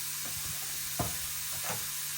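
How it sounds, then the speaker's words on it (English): Steady, bright sizzling of chicken frying in a hot pan, with a few soft stirring scrapes underneath. "Then you add the chicken to a hot frying pan."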